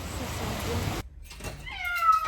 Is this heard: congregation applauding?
no